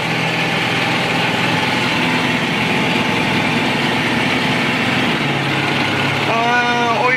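A Flight Design CTSW light aircraft engine runs loud and close just after start, a steady droning hum with the revs rising slightly near the end as the throttle is opened a little.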